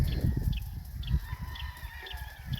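Fighting roosters on a farm in Murcia, Negros Occidental, cluck and crow faintly at a distance. Short calls repeat over a low, rumbling background.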